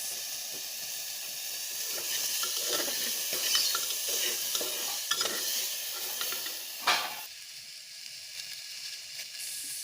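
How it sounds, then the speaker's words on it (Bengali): Vegetables and ginger paste stirred in a hot pan, a steady sizzle and hiss with scraping, clinking spoon strokes through the middle and one louder knock near the end, no talking. "সবজিগুলো দিয়ে এবারে একটু নাড়তে থাকবো"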